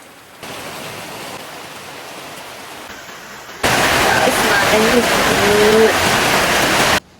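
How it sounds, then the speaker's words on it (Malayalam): Heavy rain pours in a steady, dense hiss that becomes noticeably louder partway through and continues until the sound cuts off. "അപ്പോൾ രാവിലെ തന്നെ നല്ല മഴയാണ്"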